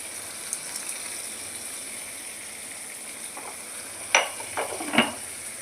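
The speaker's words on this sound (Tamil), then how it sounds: "வெங்காயம் நல்லா வதங்கிட்டுருக்கு" Onions sauté in a pan with rock salt, giving a soft, continuous sizzle, followed by a few louder scraping stirs near the end.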